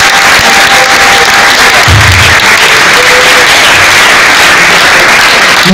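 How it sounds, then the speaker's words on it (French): Loud, dense applause from an awards-ceremony audience honouring an artist, a continuous wash of clapping and crowd noise throughout. "Est-ce qu'on peut applaudir bien fort pour notre icône?"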